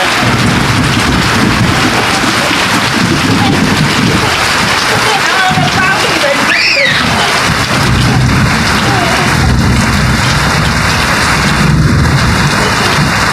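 Heavy afternoon rain pours in a loud, continuous wash, with rumbles of thunder rolling underneath and a brief voice calling out midway.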